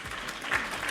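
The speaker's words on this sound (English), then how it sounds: "Another applause." Brief audience applause at a Christmas-themed event, a short dense burst of clapping heard close and steady for about a second.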